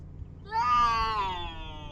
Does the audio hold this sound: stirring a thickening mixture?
no